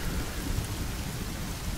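Rain falls steadily in The Forest video game, with a low rumble of thunder underneath, a short and continuous wash of noise without any voices.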